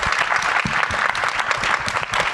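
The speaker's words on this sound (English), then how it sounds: "We should give them another round of applause." Dense, steady applause from an audience clapping for panelists at a thalassemia family discussion event, loud and continuous through the whole stretch with no voices.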